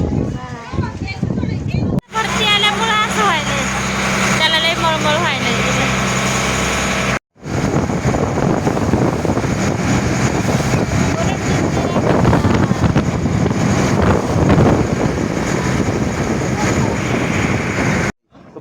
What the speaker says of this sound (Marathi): एवढी हवा ना बापरे खूप खूप हवा बघा आम्ही बोटीत बसलो मुरी जिंजिराच्या